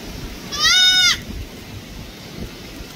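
A young male goat bleats once, a single loud wavering cry lasting about half a second, heard outdoors by the sea under steady wind noise.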